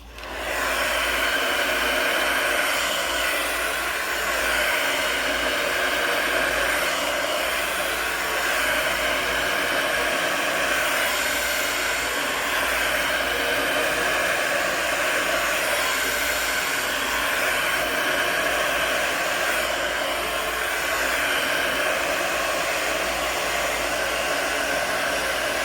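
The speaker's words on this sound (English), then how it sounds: "I'm going to over direct the hair past the section parting and blow dry with my round brush" A hair dryer blows hair around a round brush in a salon. Its loud, steady, close whine and rush of air run unbroken for the whole stretch, with no talk.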